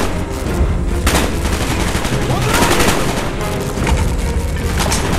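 Gunfire in the Call of Duty Black Ops video game, a dense run of shots and bursts over a constant loud battle din, with a couple of sharper cracks standing out.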